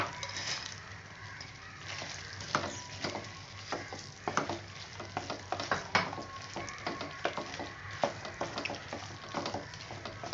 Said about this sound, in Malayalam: നന്നായിട്ട് ഇളക്കി മിക്സ് ചെയ്ത് എല്ലാ ഗ്രേവിയും എല്ലാ മുട്ടയിലും പിടിക്കുന്ന വിധത്തിൽ